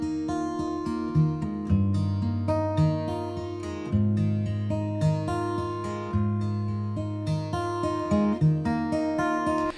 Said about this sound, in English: we then go on to this plate reverb